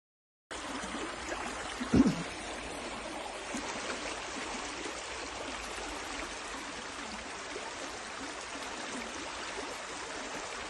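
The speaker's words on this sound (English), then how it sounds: "River there, look." River water flows steadily outdoors, a continuous broad rushing wash at moderate level with one brief louder knock near the start.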